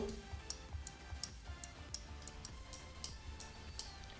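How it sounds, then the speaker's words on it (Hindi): A relay on an Arduino NodeMCU smart home board ticks in sharp, regular clicks about twice a second, faint and close over low background hum. "जो हमें टिक टिक की आवाज़ आ रही है गाइस बेसिकली यही है जो हमें बताती है कि हमारा रिले सही से काम कर रहा है"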